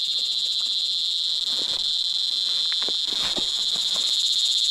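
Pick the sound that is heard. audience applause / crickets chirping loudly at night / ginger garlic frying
crickets chirping loudly at night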